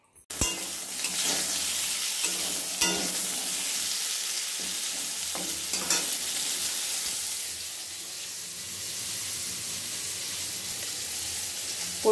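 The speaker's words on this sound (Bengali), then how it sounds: "পটলগুলো ভেজে নিচ্ছি ভালো করে" Pieces of pointed gourd (potol) fry in hot oil in a pan, a steady close sizzle broken by clanks and scrapes of stirring, with a softer stretch of sizzling near the end and no talk.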